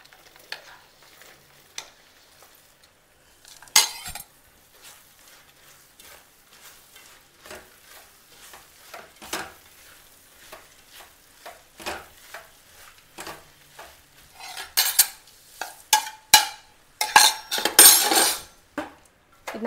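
A spoon stirs a roasted date mixture in a pan on the stove, with scraping and clinking strokes that come irregularly and grow busier and louder toward the end, plus a faint sizzle underneath.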